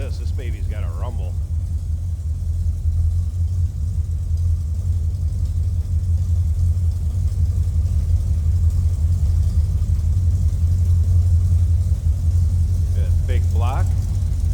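A 1956 Oldsmobile Holiday Coupe's big-block engine idles with a deep, steady low rumble throughout, a continuous throaty drone with brief faint higher sounds at the start and end.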